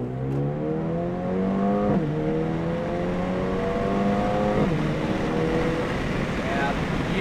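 A 2023 Mercedes CLA35 AMG engine revs up steadily, then drops sharply as the gearbox shifts, climbing again to a second shift around 6,500 rpm, loud and close from inside the cabin with steady road and wind noise beneath.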